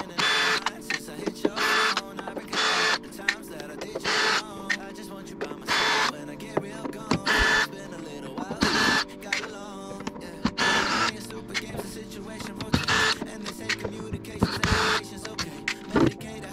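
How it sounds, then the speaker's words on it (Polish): Bolts come out around the CVT cover of a Kymco MXU 700/550 quad during its first service, with repeated short bursts of a power tool whirring between quieter gaps and clinks of handling, under occasional talk. "odkręcamy wszystkie te śruby dookoła, ściągamy pokrywę i patrzymy"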